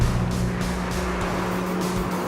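A black 2012 BMW 1M Coupe drives past or along nearby, its engine giving a loud, steady hum with faint tire noise and no talking.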